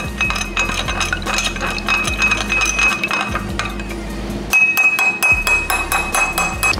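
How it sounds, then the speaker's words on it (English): Spoon stirring agave syrup into a vodka seltzer in a glass, with rapid, repeated bright clinks and scraping against the glass, close and steady with a brief pause midway. "make sure you get all that agave syrup mixed into the drink as much as possible"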